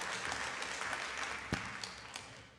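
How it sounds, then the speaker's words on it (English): Quiet applause from a city council meeting audience, a soft continuous patter of clapping with a couple of sharper claps near the end, heard at a distance. "Give Hope one more round of applause"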